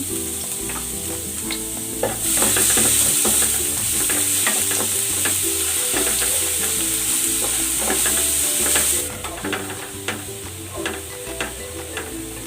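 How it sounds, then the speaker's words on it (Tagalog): Garlic sautéing in hot cooking oil in a pan, a loud continuous sizzle with stirring scrapes, swelling sharply after a couple of seconds and easing near the end, with no talking. "Igigisa ko na tong bawang."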